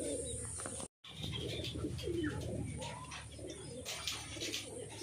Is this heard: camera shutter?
no